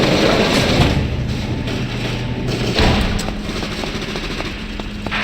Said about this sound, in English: Look out for that anti-tank cannon.